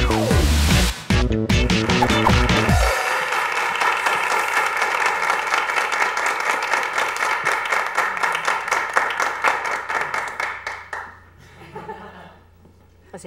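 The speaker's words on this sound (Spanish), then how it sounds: "Un aplauso, Marianela González" Audience applause at a televised interview with Marianela González, loud and sustained for about ten seconds after a burst of music, with scattered laughter and voices before it fades out.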